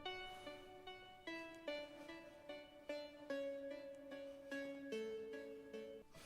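A bright Omnisphere synthesizer lead plays a stepwise melody of sustained, harmonically rich notes with soft attacks, alone and evenly paced.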